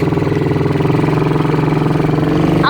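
Quad bike engine running steadily up close at a constant idle-to-low throttle pace, a continuous throbbing drone with a faint rhythmic pulse throughout.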